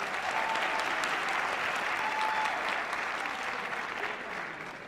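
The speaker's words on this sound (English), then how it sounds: "Let's clap it up one more time for Faith" Audience at a university multicultural graduation celebration clapping for a performer, a full, continuous round of applause that holds steady and then gently tapers near the end, with no speech.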